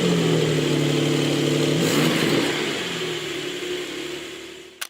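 A Porsche sports car engine revs loudly, its note rising and then falling away, ending with a brief burble as it cuts off.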